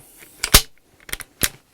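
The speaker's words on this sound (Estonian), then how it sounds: "Laadime relva ära" A hunting rifle is loaded by hand: a few crisp metallic clicks and clacks of the action, close and isolated against near silence.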